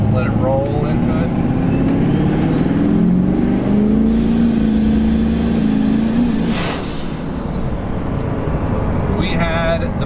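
A compound-turbo Duramax diesel pickup accelerates on a road, its engine drone steadily building under continuous road and wind noise, with a brief hiss near the end.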